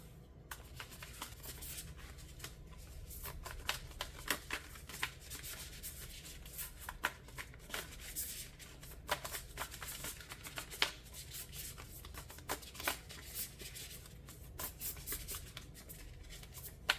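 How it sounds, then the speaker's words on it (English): A deck of oracle cards is shuffled by hand, giving a quiet, close series of rapid riffling and sliding bursts that continue steadily with no talking. "I'm going to do a quick shuffle."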